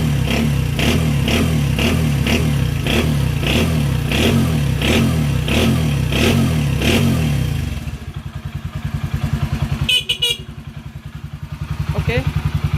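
A restored Honda Win 100 motorcycle with only the cylinder block and head reworked, its engine running loud and close with a steady pulsing idle that drops to a lower, choppier putter before rising again.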